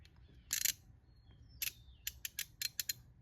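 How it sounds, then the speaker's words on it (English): Ratchet socket removing 7/16 bolts on a Fox body Mustang convertible quarter glass window motor: a burst of close ratchet clicking, a lone click, then several quick ratcheting bursts, quiet around them. "Let's go to removing bolts and see what happens."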